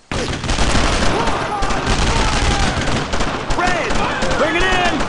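Dense, continuous WWII gunfire in the video game Brothers in Arms: Road to Hill 30, rapid rifle and machine-gun bursts close and loud, with soldiers shouting over the shooting.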